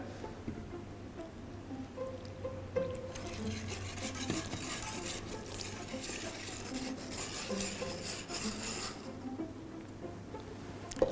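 A whisk steadily stirs milk into a pudding mixture in a pot, producing a soft continuous swishing and liquid churning that grows a little busier midway.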